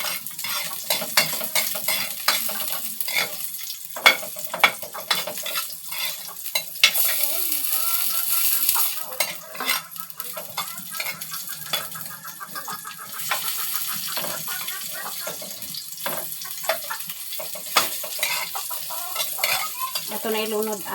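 Garlic and onion sautéing in a hot pan for a vegetable mung bean dish, a steady close sizzle with frequent scraping and stirring strokes of a utensil, no talking.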